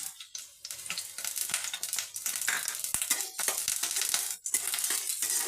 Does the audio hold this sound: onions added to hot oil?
yes